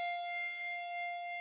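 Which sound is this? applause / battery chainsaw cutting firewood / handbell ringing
handbell ringing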